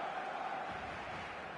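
Stadium crowd noise from a football video game match, a dense, steady roar of many voices filling the whole stretch at constant loudness, with a faint sustained chant-like tone running through the first half and no clear individual speech.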